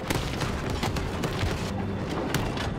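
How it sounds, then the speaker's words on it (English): Dense, continuous rumbling booms and crackling blasts from combat in Battlefield 2042, a steady wall of explosions with no clear gaps. "Oh, shit so many explosions."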